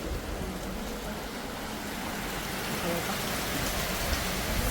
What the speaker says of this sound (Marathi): बाहेर पाऊस बघू शकता बाबा जाम पाऊस आहे भरपूर पाऊस पडतो